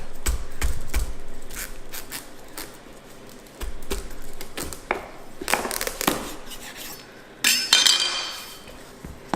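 A knife works through a raw butternut squash in a kitchen, producing a series of sharp knocks and clacks against a board, irregular and close, with crunchy cutting bursts between them and no talking.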